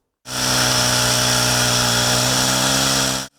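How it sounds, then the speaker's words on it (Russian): A petrol chainsaw runs at a steady, loud high whine on a city square, sounding continuously for about three seconds before cutting off abruptly, with no voices. "На Стефановской площади пока слышно только шум бензопилы."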